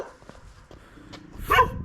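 A dog gives a single short bark near the end of a brief moment outdoors, fairly close, after faint scattered sounds.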